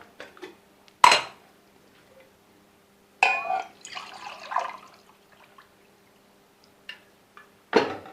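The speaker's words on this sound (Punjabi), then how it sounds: "ਪਹਿਲਾਂ ਆਪਾਂ ਇਹ ਥੋੜਾ ਦੁੱਧ ਪਾਵਾਂਗੇ ਕੱਪ ਦੇ ਵਿੱਚੋਂ ਰੱਖ ਲਾਂਗੇ" Milk is poured into a cup in a home kitchen while an apple shake is made, a short splashing pour between sharp clinks of dishes and utensils, close and fairly quiet.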